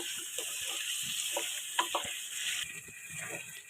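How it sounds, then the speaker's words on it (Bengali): Boiled potato being stirred into a banana flower mixture in a pan, with a steady soft sizzle under scattered scraping and clinking of the spoon, close and moderately quiet. "এবার ভালো করে নাড়াচাড়া করছি।"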